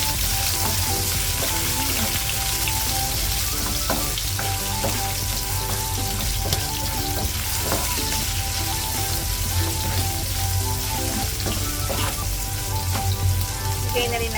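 Ginger and dried oyster sizzle loudly and steadily in a hot pan during a stir-fry of Chinese bok choy with dried scallop, the frying noise continuous and close with faint clinks of stirring.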